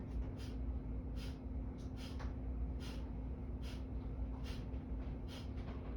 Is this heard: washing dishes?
no